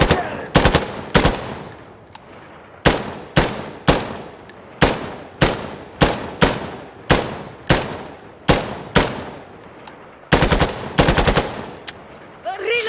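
Repeated gunfire from assorted weapons in the shooter game Insurgency: Sandstorm, loud close single shots and short bursts in an irregular rhythm, with a rapid automatic burst near the end and no talking.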